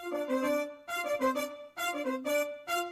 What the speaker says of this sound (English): then you're going to play the brass section with it, which sounds like this